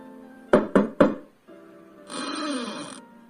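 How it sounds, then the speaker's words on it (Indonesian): Three sharp knocks on a wooden door in quick succession, followed by a creak as the door swings open, a close and clean sound effect with no talking. "Pintu terbuka setelah Harlan mengetuknya"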